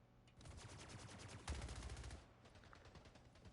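Rapid SMG gunfire in a video game, a dense sustained burst of shots running about two seconds with a louder crack near the middle, then fading into lighter trailing fire.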